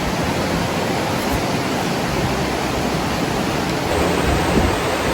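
A river rushes steadily beside Tumpak Sewu waterfall in East Java, Indonesia, its loud, broadband roar of water continuous and close with no voices over it.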